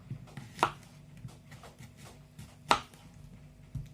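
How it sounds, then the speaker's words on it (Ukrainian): A knife cuts zucchini into small pieces on a board, giving two sharp distinct chops amid faint quieter cutting sounds in a quiet room, with no talking. "Відрізаємо усе зайве і нарізаємо кабачок на невеличкі шматочки."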